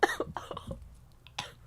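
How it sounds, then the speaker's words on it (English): A few close, sharp coughs come in a quick cluster, followed by a softer single cough after a short pause. "After I get this cough out."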